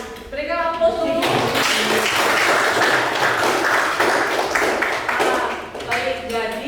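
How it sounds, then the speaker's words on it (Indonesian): A classroom audience applauds after a group presentation at a vocational high school, a dense, fairly loud burst of clapping from many hands that swells and then thins out, with voices at the start and end. "Berikan aplaus dulu"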